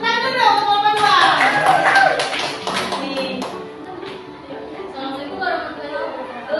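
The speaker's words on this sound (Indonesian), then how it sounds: "tepuk tangan dulu untuk teman-teman." A burst of scattered hand clapping from a classroom full of students, mixed with chatter and young voices, fading into talk after a few seconds.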